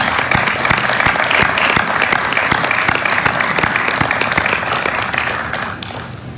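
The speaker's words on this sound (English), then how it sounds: "we should clap for the families." Audience applause at the United States Capitol honoring families at a presidential bill signing, a dense steady clapping from a large crowd that holds for several seconds, then begins to thin toward the end.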